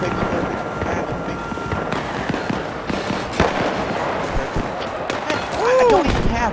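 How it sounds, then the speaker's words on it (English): A missile blast in Battlefield 3 booms amid scattered gunfire, crackling bursts and a thud midway, with people talking over the chaotic battle noise. "Yo, dude, I just dodged a missile like a ball."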